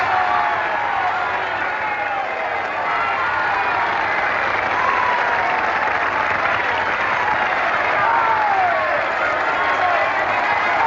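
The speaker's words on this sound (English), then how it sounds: "They're cheering for you, Manuela, for your singing and dancing." A film crowd cheers and applauds a singing and dancing performance, a continuous, loud wash of clapping and cheering that holds steady from start to finish.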